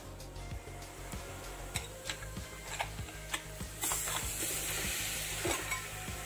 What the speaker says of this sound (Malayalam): ആ ഒരു ബീഫ് ഇതിലേക്ക് ഒന്ന് ചേർത്ത് കൊടുക്കാം.